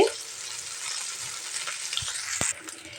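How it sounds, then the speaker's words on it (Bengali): Small taki fish frying in oil in a pan, a dense steady sizzle with occasional spatula clinks and scrapes as the pieces are turned from side to side. "পয়সা টাকি মাছগুলো আমি এ পিঠ ও পিঠ ভালো করে ভেজে নিচ্ছি"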